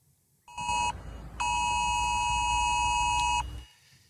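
A UK emergency alert test tone sounding from a mobile phone: a short loud harmonic buzz, a brief pause, then a longer sustained blaring tone lasting about two seconds before cutting off.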